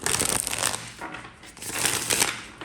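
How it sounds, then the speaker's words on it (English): A deck of tarot cards being shuffled by hand close up, with two bursts of crisp riffling and flapping card noise separated by a brief pause. "the cards have been shuffling so annoyingly today"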